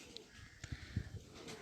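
Pigeons coo softly in a few low, murmuring notes that carry faintly over quiet background noise.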